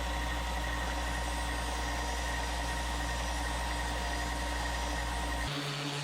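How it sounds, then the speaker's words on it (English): A disc or belt sander runs steadily with a loud, constant motor hum and grinding whirr while chamfers on wooden toy parts are sanded on a dowel, then the tone changes near the end. "Put it on a dowel and spin it on the disc or the belt."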